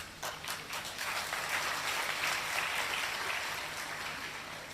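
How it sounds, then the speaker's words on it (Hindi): A large audience claps at a public talk, sounding somewhat distant, with a few sharper claps at the start that swell into an even, sustained roar of applause. "अभी थोड़ी ताली बचा के रखिए।"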